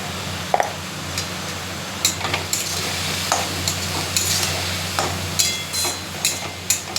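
Leafy greens fry in a hot pan with salt and turmeric, stirred with a utensil; a steady soft sizzle runs under irregular scraping clicks and taps at close range, with no voices.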